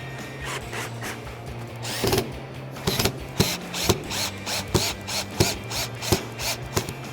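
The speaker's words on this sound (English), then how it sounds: "what we need to do here is screw these in to the other portion of our bow" A screwdriver or drill drives stay strap screws into the bow of a Jeep Wrangler JK Bestop TrekTop NX soft top, giving repeated close, short grinding bursts and clicks over a steady low hum.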